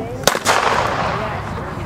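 A single sharp gunshot cracks close by outdoors in a forest park, followed by a short second report and a fading echo over low background murmur.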